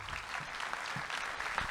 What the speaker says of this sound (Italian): Accogliamo con un applauso Gianluigi Nuzzi